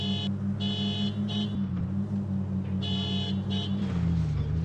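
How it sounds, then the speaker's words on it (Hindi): A car horn from the Indian Car Simulator 3D driving game, in its city map, sounds in a few short honks over a steady low engine hum, with no talking. "हमने हॉर्न तो बजाया था,"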